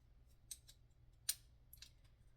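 Scissors snipping while making charms, three or four quiet, close, crisp cuts over a faint low room hum.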